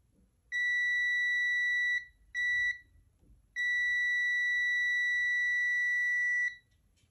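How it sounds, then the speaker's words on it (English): A multimeter in continuity mode beeps across relay contacts: a steady pure electronic tone sounding three times, a longer beep, a short one, then a long sustained one, clear and close over faint background hum. "After energizing, the multimeter will beep or display a small resistance value, indicating that these two pins are connected."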